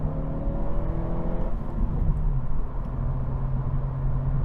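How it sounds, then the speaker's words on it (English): A 2025 Honda Civic Si with manual gearbox pulls hard in third gear after a downshift, its engine note heard from inside the cabin as a steady droning hum that climbs in pitch under throttle. "I'm just cruising around here in fourth gear, downshift into third"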